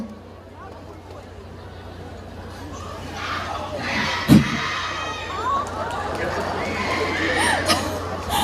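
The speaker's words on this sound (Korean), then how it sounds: "사고 난 거 아니고 환호 중입니다" A crowd at an outdoor festival concert cheers and shouts in a rising, sustained roar, with high excited voices and a sharp peak midway, continuing loudly to the end.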